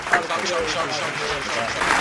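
Mobile game players clapping for themselves before a PUBG Mobile match, a short burst of applause close by over steady background noise.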